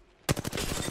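A short, rapid burst of automatic gunfire in the Apex Legends video game starts abruptly and sounds loud and close.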